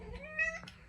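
A cat lets out a single short, rising meow close by in a quiet indoor room.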